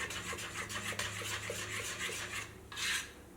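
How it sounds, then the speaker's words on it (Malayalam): A spoon scraping and stirring through instant idli batter in a bowl just after Eno is added, close rhythmic rasping strokes with a brief brighter scrape near the end, no voice heard. "ഇത് ചേർത്ത വഴിക്ക് നന്നായിട്ടൊന്ന് മിക്സ് ചെയ്യുക."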